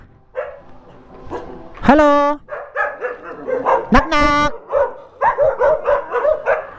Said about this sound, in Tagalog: Daming aso, oy!